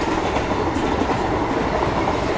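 The Brindavan Express runs on rails from Bengaluru to Chennai, heard as a loud, continuous rumble of wheels and carriages with a steady rolling clatter, close and enveloping, with no voices.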